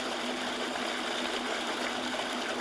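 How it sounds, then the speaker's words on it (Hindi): Water from a solar-powered tubewell pump with a three-phase motor pours out steadily, a continuous loud rushing stream with no pauses and no voices. "ये देखें, ट्यूबवेल माशाल्लाह चल गया है"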